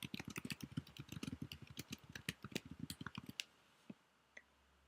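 Notes being typed on a computer keyboard: a rapid, steady run of close key clicks that stops abruptly, followed by a couple of isolated taps against quiet room tone.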